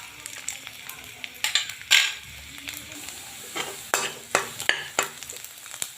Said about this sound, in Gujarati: तेल गरम थई गयुं छे, पहेला लसण नाखीशुं